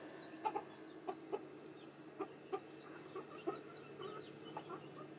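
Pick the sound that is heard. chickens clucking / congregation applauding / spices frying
chickens clucking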